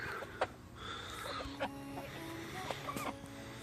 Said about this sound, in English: Such pretty chickens